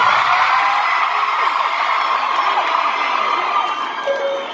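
A large concert crowd at a Mixtape Tour show screams and cheers continuously, a loud dense wall of high-pitched shrieks and whoops.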